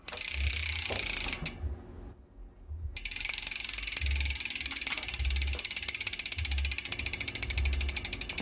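A bicycle brake caliper's bolts being loosened on a SRAM brake with Hope floating rotors, rapid close ratcheting clicks from a hand tool in regular bursts, with a brief pause midway.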